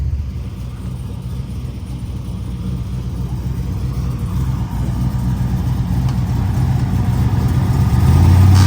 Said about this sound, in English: we got the Camaro that we're riding in, the old IROC Z